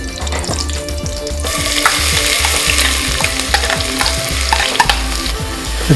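Finely chopped onions sautéed in hot oil with a bay leaf for biryani, with a loud close sizzle and quick repeated scraping stirs against the pan.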